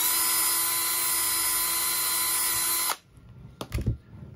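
A power drill runs loud and steady with a high whine while a mudguard is being mounted, then cuts off abruptly, followed by a few faint handling knocks.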